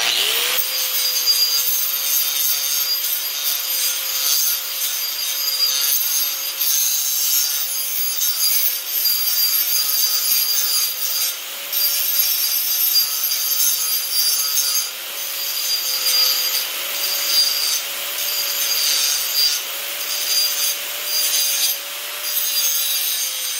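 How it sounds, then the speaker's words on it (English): Grinding stone working a notch into steel tubing for a roll cage, a steady continuous abrasive whine with rough scraping texture and no talking. "All I'm going to do is take the grinding stone now. And I grind back to this upper lip here, this edge."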